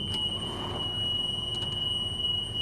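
A school bus emergency exit alarm buzzer sounds during a pre-trip inspection, a steady unbroken high-pitched tone held for the whole moment at moderate loudness.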